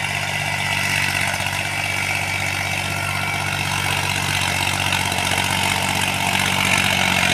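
A Mahindra 265 tractor engine idles with a steady, loud, close diesel drone and a rhythmic low-pitched throb, holding even and unbroken throughout with no voices.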